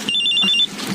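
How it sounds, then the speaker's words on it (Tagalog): An electronic cellphone ring trills in a Filipino horror radio drama, a rapid warbling pulse lasting most of a second and heard alone at moderate volume. "Ang cellphone ko."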